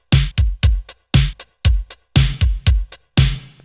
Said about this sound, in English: There's this reverb, because dry it sounds like this.